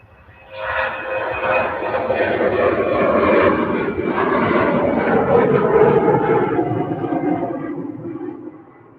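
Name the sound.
Austrian Airlines Embraer E195LR jet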